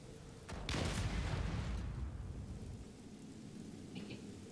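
An explosive charge detonates in the game Second Extinction, a heavy rumbling blast that rolls out and slowly fades into a lingering low roar, with a faint blip near the end.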